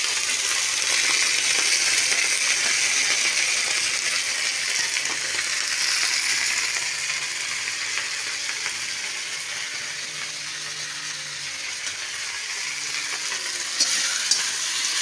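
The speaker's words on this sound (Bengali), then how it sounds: "পেঁয়াজ রসুনের সঙ্গে শামুকও হয়ে যাচ্ছে আমাদের ভাজা" Snails sizzle steadily in hot oil with onion and garlic in a wok, a dense continuous frying hiss with occasional stirring scrapes, close and fairly loud throughout with no talk.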